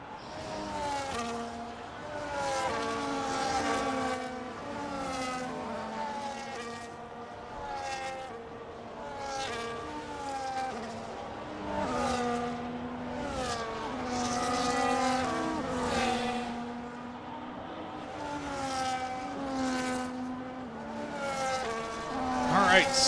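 Formula 1 cars in the F1 25 video game idle and rev on a formation lap while warming their tyres, a dense layered engine drone with repeated rising and falling revs throughout, voices talking over it.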